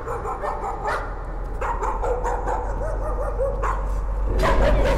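Dogs barking and yelping in the Layers of Fear horror video game, several barks and yips over a steady droning background, growing louder and more frantic toward the end.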